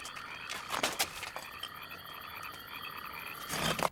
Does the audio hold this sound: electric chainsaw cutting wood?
no